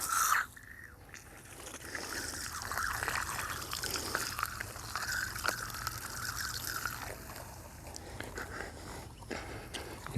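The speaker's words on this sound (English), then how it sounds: "You can hear the water running." Water trickling steadily through a drip irrigation line in a garden of corn rows, a continuous soft hiss and dribble held at a fairly even level, with a brief louder gush near the start and a few faint knocks.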